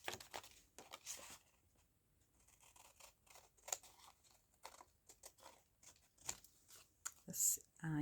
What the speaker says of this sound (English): I'm just going to cut around that with the scissors.